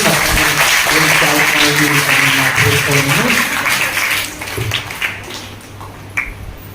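A congregation at a fasting prayer gathering in Rajahmundry claps together to welcome a speaker, dense applause that fades out after about four seconds, with a voice beginning over the tail.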